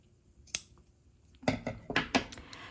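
Crisp snips of scissors cutting paper for wedding planner dividers, one isolated snip followed by a quick run of four or five cuts, close and clear with no talking.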